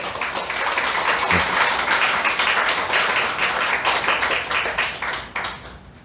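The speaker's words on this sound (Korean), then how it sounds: "한번 힘차게 박수로 맞이할까요?" A church congregation at a Wednesday worship service claps to welcome a visiting missionary: dense, loud, continuous applause that holds steady, then thins and fades in the final second.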